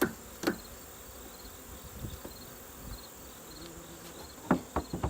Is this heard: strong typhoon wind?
no